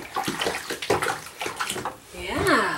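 A six-month-old baby sits in a bath chair in a tub, with water splashing and sloshing in short bursts, while an adult talks gently throughout and a voice briefly joins in.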